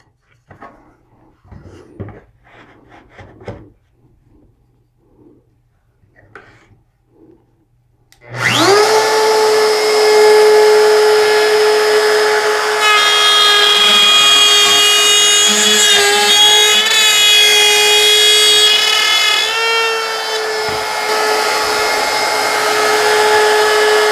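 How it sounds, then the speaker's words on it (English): Router on a small circle jig cutting a wooden workpiece for a zero clearance table saw insert, with the bit exposed about a quarter inch; faint handling noises, then the motor starts abruptly and whines loudly and steadily, its pitch wavering as it cuts. "I've adjusted the small circle router jig so that the edge of the bit just touches the edge of the workpiece"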